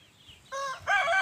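Free-range village chickens, with a rooster giving a short, clear crow in two rising bursts over a quiet farmyard background.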